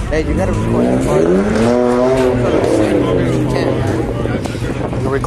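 At a rev battle, a car engine revs up and sweeps back down in a loud, rising and falling howl, with a squealing edge and people talking over it nearby.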